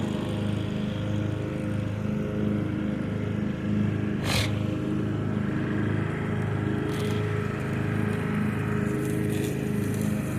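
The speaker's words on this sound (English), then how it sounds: "I was not expecting to get the sound of the engine when it was popping a little bit" A Craftsman riding lawn mower engine idles steadily with a throbbing, even drone close by, one sharp pop standing out and a couple of fainter pops later.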